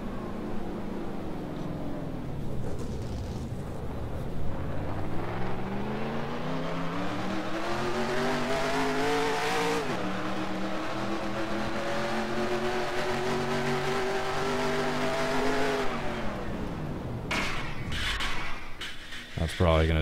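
A race car engine from the NR2003 racing game drones steadily and loud throughout, its pitch sweeping up and down as it revs, with someone talking over it.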